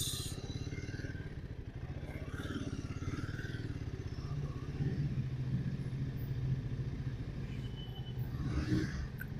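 A Royal Enfield Himalayan 450 motorcycle being pushed into a shop, a low idling engine rumble with clatter and shuffling nearby, moderately quiet and steady, with muffled background activity.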